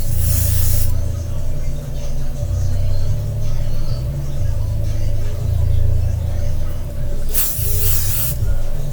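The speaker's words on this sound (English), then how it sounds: "And you go back in again with the spray-free spray." Hair spray hisses from a can during a bald-cap wig install, two loud bursts of spraying at the start and near the end, over a low steady rumble of background noise.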